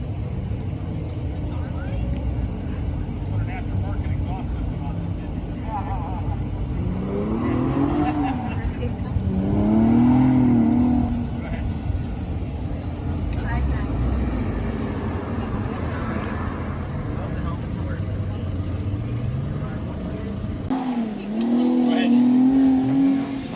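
A Tesla Model 3 SR+ electric car driving on a race track, its motor whine rising and falling in swooping pitch sweeps, with a steady hum of road and wind noise and people talking over it.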